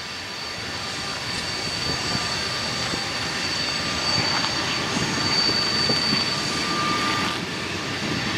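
A long BNSF freight train led by Dash 9 and ES44AC locomotives rolls past with a continuous heavy rumble and clatter, holding steady throughout, with a faint high tone riding on top.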